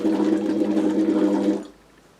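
Air blown through a Lax Vox silicone tube into a half-liter water bottle makes a steady, loud bubbling rumble that stops abruptly after about a second and a half, leaving near silence.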